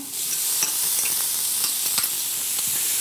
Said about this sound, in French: Légèrement revenue dans le reste de matière grasse que je n'avais pas égoutté